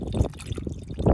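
Boiling water poured from a camping pot into a backpacking chicken risotto pouch outdoors in snowy Adirondack woods, a short gurgling splash in two close bursts.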